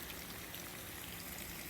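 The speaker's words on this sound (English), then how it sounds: "I don't mind walking in this type of rain" Heavy rain falls steadily on a hiking trail, a dense even hiss with no talking and no breaks.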